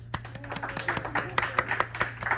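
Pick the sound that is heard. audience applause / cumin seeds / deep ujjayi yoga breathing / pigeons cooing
audience applause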